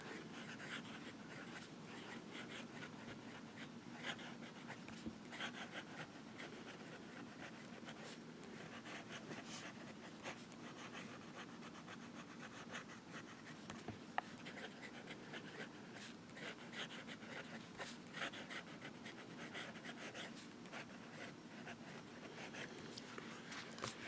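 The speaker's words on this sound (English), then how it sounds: "So let's do some writing now." Visconti Mirage Horn fountain pen with a smooth, wet nib writing on paper: a faint, continuous close scratching and rubbing of the nib, steady throughout with no talk.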